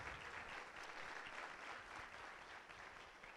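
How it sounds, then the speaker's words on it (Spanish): An audience at a legal conference applauds steadily, a dense, continuous wash of clapping heard at a distance that stays even and fades only slightly toward the end. "pues un aplauso para nuestro ponente"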